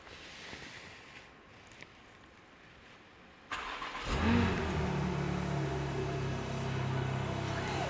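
A BMW G80 M3 under rebuild cranks and starts after a few quiet seconds, then revs up and settles into a strong, steady idle, close and loud.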